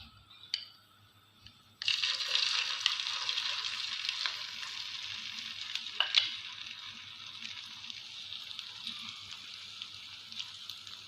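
A spiced vegetable sandwich filling drops into hot cooking oil and fries with a sudden, steady crackling sizzle that continues close up, with a few small clinks and no speech.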